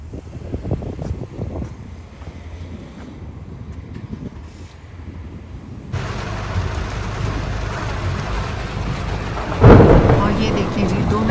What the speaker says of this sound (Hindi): 2 मिनट पहले धूप थी और फिर अब ऐसे ही तेज बारिश